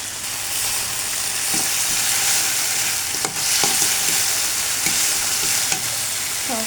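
Vegetables sautéing with dried ribbonfish in a pan crackle with a loud, dense sizzle, while a spatula scrapes and knocks against the pan at irregular intervals, close and without speech.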